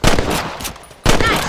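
Two loud, close rifle shots ring out in the Red Dead Redemption video game, each a sharp blast trailing into a booming echo, the second arriving about a second after the first.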